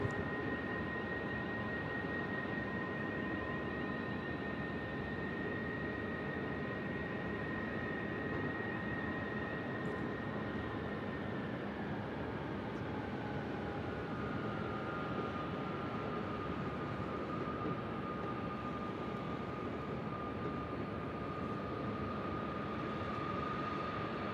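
An airliner taxis across a runway at Sydney Airport, its steady broadband jet roar constant and fairly loud throughout, with a sustained whine that slides slightly lower partway through.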